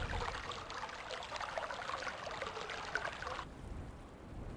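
Water sound in the video game Myst (2021), a steady rushing stream or pouring flow that holds evenly for several seconds and then cuts off abruptly, leaving faint background hiss.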